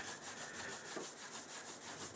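A Crosman 760 airgun pump tube and barrel being polished, heard as a continuous rhythmic rubbing, a close, even back-and-forth scrub with no talk.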